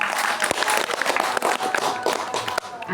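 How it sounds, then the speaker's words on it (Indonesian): Steady applause from a crowd at a gathering at Pura Agung Medang Kemulan, a dense patter of many hands clapping throughout, fairly loud and close. "Tepuk tangan dulu."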